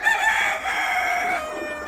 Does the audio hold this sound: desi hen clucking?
yes